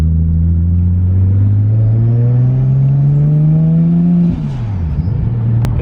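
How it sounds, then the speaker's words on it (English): A 500 hp R33 Skyline's engine revs up in a long, rising climb with a turbo spooling, loud and close from inside the car, then drops off sharply and settles. "when the windows are up, all you really hear is a turbo spool"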